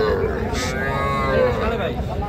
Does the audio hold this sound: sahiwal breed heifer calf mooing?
yes